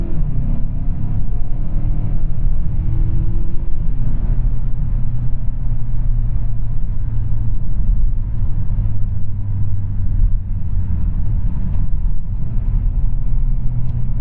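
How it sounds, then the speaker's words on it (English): A 2021 Mazda CX-5 Carbon Edition accelerates in sport mode with manual shifting, heard from inside as a steady loud engine rumble with road noise and rising, falling engine tones through the shifts. "We'll just like accelerate it a little bit to see how it does."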